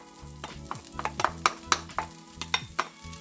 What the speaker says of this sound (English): we're going to dump in our rye bread crumbs